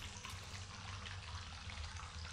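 Water flowing in the Morpheus video game after the Tepidarium is activated, a steady faucet-like rush, even and quiet, with no talking.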